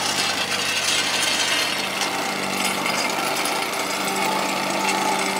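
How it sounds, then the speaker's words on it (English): A Wacker Neuson plate compactor runs steadily while packing the base for a paver patio, a loud continuous vibrating, rattling engine drone that holds an even level throughout with no pauses. "The old Whacker Nielsen still running."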